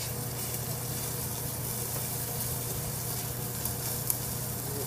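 Ribeye steak sizzling steadily in a hot pan, a continuous close, even frying hiss with no talking.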